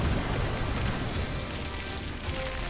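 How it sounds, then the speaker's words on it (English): Acid rain pours steadily in the video game Final Fantasy XVI, a dense, even rush of falling drops that holds at moderate volume throughout with no voices. "Acid rain? Oh no."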